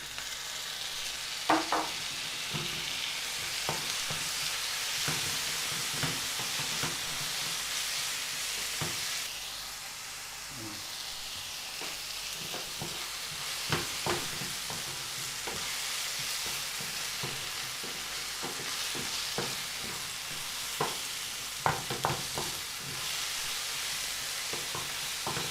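Tomato frying with chicken in a pan, a continuous sizzle under repeated scraping and clinking strokes of a stirring spoon, with a brief dip in the hiss partway through.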